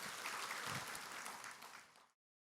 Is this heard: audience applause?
yes